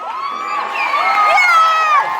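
A studio audience at a live America's Got Talent taping cheers and whoops loudly, a dense crowd roar with high shouts swelling over two seconds.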